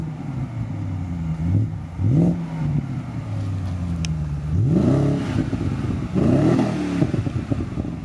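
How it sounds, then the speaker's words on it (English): A BMW 550i with a custom dual-exit exhaust revs repeatedly, each throttle blip rising in pitch and falling back to a burbling idle, close and fairly loud with no talking. "we do have stock video of the exhaust right now too"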